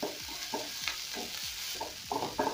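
Ginger and garlic paste sizzles in a pot while a spoon stirs it in quick repeated scrapes, close and moderately loud.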